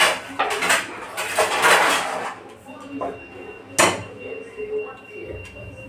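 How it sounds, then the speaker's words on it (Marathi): A kadhai (wok) set down on a stove, with clattering metal knocks and scrapes, one sharp clank standing out, amid light kitchen handling. "खाली उतरवले, आता कढई ठेवते."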